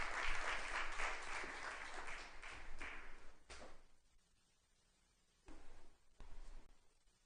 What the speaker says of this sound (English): a round of applause for the Chief Minister and for our honored guest